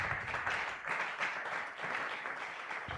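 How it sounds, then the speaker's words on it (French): A church congregation at a Sunday worship and thanksgiving service claps and applauds for Jesus, a steady, moderately distant wash of hand claps with slight swells, no voices standing out. "Acclamons très fort pour Jésus."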